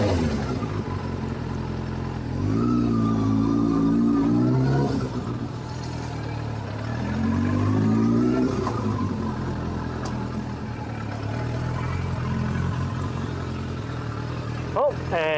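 2003 Suzuki Bandit 600 motorcycle idling in an alleyway after winterizing, with two throttle blips that climb and fall back to a steady, slightly rough idle, someone talking throughout.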